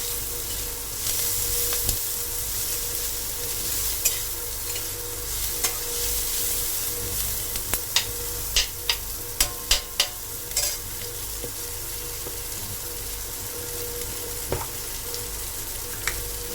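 Egg curry sizzles steadily in a pan while a utensil stirs it, giving a run of sharp clicks and scrapes against the metal over the constant frying hiss.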